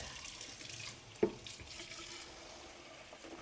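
Cold water runs from a tap at a steady, fairly quiet hiss, with one brief knock or splash near the start standing out and no talking.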